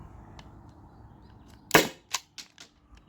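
A single sharp pneumatic pop from a Byrna SD launcher running on a 12-gram Umarex CO2 cartridge, loud and close, followed by a few quieter clicks and rattles as the sound fades.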